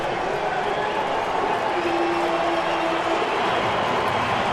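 Baseball crowd in Seattle reacting as Junior comes up to bat, a broad steady murmur and roar of a large stadium audience with a commentator's voice over it.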